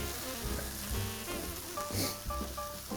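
Soft, steady sizzle of chopped oyster mushrooms frying in a pan with onions, a faint continuous hiss with light crackles throughout.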